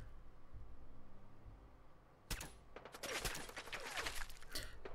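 Bursts of enemy gunfire in Fallout 4 from foes blind firing: after a quiet stretch, loud cracking shots break out and continue as rapid, overlapping volleys to the end.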